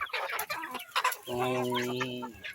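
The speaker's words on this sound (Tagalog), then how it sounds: "Mga sisiw yun. Sisiw. Meron pa." Native Bisaya chickens, chicks and hens, cluck and peep up close at a farm. Short clucks come first, then a sustained tonal call, fairly faint overall.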